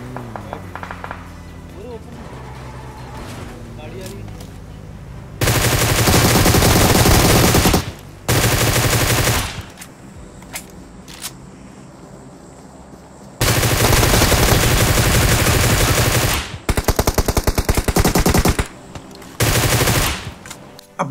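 Automatic gunfire in the video game PUBG Mobile comes as several loud, dense bursts of rapid shots, each lasting a few seconds. Someone talks between and under the bursts.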